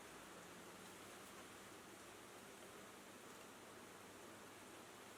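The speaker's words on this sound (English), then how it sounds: "Oh, I'm so happy about the sound of that rain." Steady rain falls outside, a soft continuous hiss that stays even and unbroken throughout, faint and distant with no voices over it.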